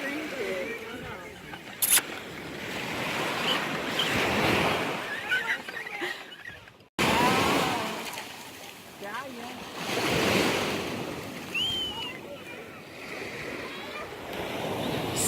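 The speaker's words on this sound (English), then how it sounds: "Sand beach at Arcadia National Park." Surf rolls onto Sand Beach in Acadia National Park, with broad washing waves rising and falling and gusts of wind buffeting the microphone.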